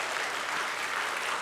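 A church congregation stands and claps during a Sunday worship service, producing a brief burst of dense, even applause that fills the room.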